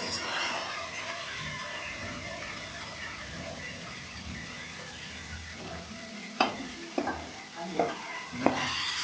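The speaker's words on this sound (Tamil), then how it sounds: "இப்போ தக்காளி சேர்த்துக்கிறேன்." Tomatoes cooking in a pan for kadamba chutney, a soft continuous sizzle with a few sharp utensil knocks and scrapes toward the end, close and fairly quiet.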